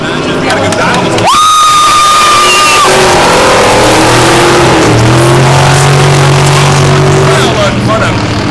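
Eight-cylinder race cars roar past at a race track, engines loud and sustained with rising and falling pitch as they pass, over a cheering crowd, with a commentator talking throughout.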